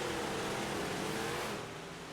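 A big block race car engine roars steadily at Lernerville Speedway, a loud sustained drone that eases off slightly near the end.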